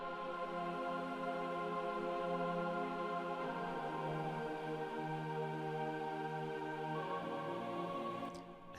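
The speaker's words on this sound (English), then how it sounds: "and then we have a choir from Nexus," Sustained synthesized choir chords from a symphonic choir preset on the Nexus synth, with lows trimmed, in a big room techno production; layered vocal-like pads shift chord at intervals and play steadily and loud throughout, with no talk.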